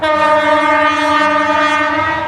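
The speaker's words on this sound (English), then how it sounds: "I think you can understand behind me a train just entered into Comilla railway station." A train sounds its horn in one long, loud, sustained blast as it pulls into Comilla railway station, steady and close, with faint rumble of rail cars beneath.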